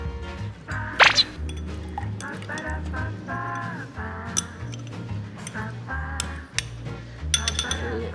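A spoon stirs soy sauce, dashi and mirin together in a pot for Japanese gyudon beef bowl, clinking against the sides in a loud knock followed by scattered light taps, with a low background hum throughout.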